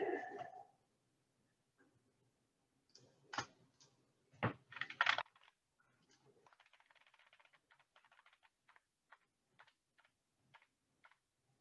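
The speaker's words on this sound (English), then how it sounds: "Cat stepped on my keyboard, if you can believe it." A cat walks across a computer keyboard, producing scattered key clacks and a short flurry of taps, then a long run of faint, evenly spaced ticks; brief speech sounds near the start.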